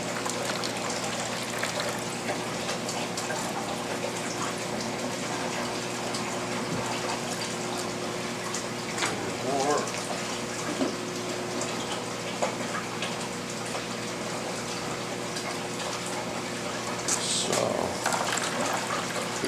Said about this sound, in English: I'm going to drop some aquarium water on it.